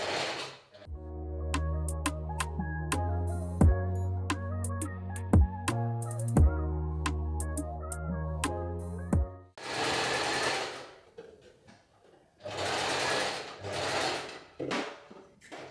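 A domestic sewing machine stitches a garment seam in several bursts of steady rhythmic whirring and clicking, close and clear, broken by short pauses and brief handling noises toward the end.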